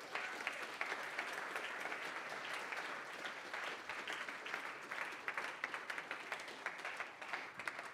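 Audience applause at an aquaculture startup demo day, a continuous dense patter of many hands clapping at moderate distance, steady for the full stretch with no talk.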